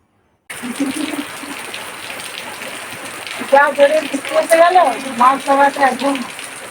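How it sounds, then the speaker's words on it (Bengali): Steady rain patters all around, and a person starts talking over it partway through. "বৃষ্টি যা লেগেছে থামবার নয়"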